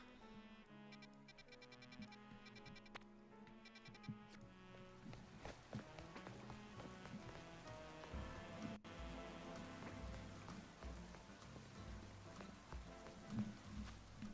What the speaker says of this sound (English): Okay, so when it's raining, is it raining everywhere?